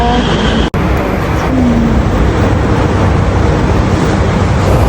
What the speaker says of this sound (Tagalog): Ayan na nga yung train.